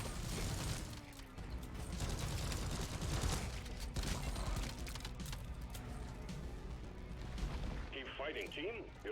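Automated Bosco drone and deployed turrets firing in Deep Rock Galactic during an Engineer solo run: dense, continuous rattling gunfire with mechanical clatter, loud and sustained throughout, ending in a brief electronic warble.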